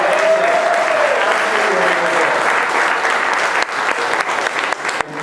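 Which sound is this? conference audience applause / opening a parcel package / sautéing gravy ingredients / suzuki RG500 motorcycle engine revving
conference audience applause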